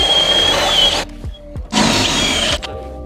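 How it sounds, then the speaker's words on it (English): A step drill bit bores out and enlarges holes in a Jeep JK body panel during a rocker guard install, two loud grinding drill bursts with a brief quieter pause between, close by and without talk. "So we're going to go through and drill some of these holes out,"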